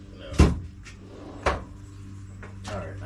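A side drawer of a tool storage unit opens and closes, giving three sharp metallic clunks spaced about a second apart, close and clear with no talking.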